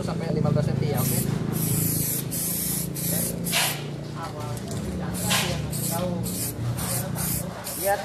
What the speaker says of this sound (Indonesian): Pada saat disemprot ya.